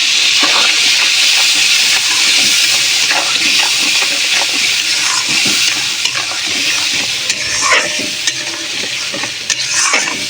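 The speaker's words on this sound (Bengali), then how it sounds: "বাটিটা ধুয়ে একটু জল দিয়ে দিলাম।" Water from a rinsed bowl poured into a pot of frying spice mixture, bringing a loud, sustained hissing sizzle and steam with stirring scrapes scattered across it and no speech.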